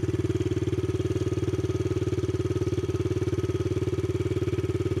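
A motorcycle engine runs steadily in gear with a fast, even thumping pulse at a constant pitch. It sounds close and moderately loud, with no voices over it during a beginner riding lesson.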